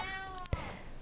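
A cat meows once, a short close cry in a quiet room, followed by a brief tap.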